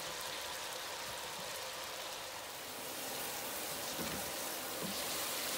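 Taco meat with onions and taco seasoning cooks in a pan for a beef lettuce wrap, giving a steady, even sizzle and frying hiss that carries on without a break and has no talk over it.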